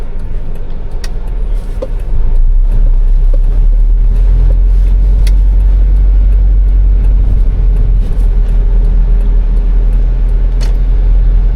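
Inside a running 2004 Mitsubishi Lancer 1.6 litre with a CVT gearbox, a loud steady low engine drone and road rumble, with faint ticks and clicks in the cabin.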